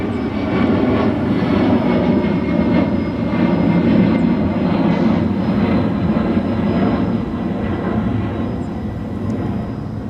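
A UPS Boeing 767 moves at Dallas-Fort Worth International Airport, its jet engines giving a loud, continuous low rumble that holds steady and eases slightly toward the end, with no voices.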